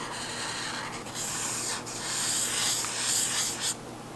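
A large chisel-tip marker drags across paper drawing graffiti calligraphy letters, giving continuous close rubbing strokes with short breaks between them and no talk.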